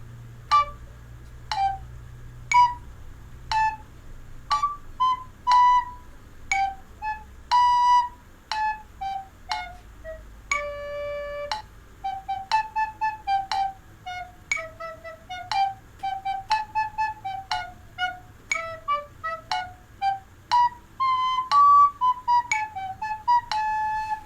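A recorder plays an improvised melody of short, separated notes, some held longer, wandering up and down at a moderate pace with brief pauses between phrases, clear and close with faint background hum.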